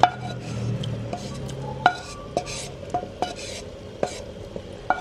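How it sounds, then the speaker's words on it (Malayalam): A spoon stirs sliced onions into a simmering coconut paste for onion theeyal, making sharp metallic clinks against the pot at an irregular pace over a soft bubbling sizzle, close up. "ഇപ്പോൾ ഉള്ളി നമുക്ക് അതിനകത്തോട്ട് ഇട്ട് കൊടുക്കാം."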